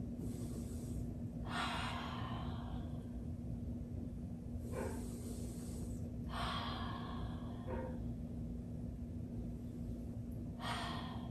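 Slow, deep breathing during a child's pose stretch in an intermediate toning workout: four or five clear breathy inhales and exhales, close and airy, spaced a few seconds apart over a constant low hum.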